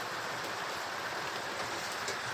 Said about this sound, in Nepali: यसरी पानी पर्छ होइन